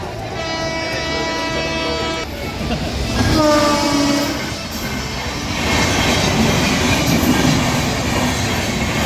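A train rumbles past close by at a railway crossing near Malavli station, Lonavala, its horn blaring at the start, wheels clattering and roaring steadily on the rails.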